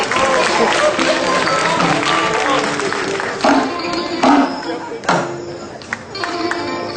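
A crowd applauds steadily, a dense wash of clapping that carries on while a voice speaks over it.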